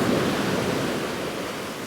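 Steady broadband roar of a big sea swell and surf breaking at a South Devon beach, continuous and fairly loud with no voices.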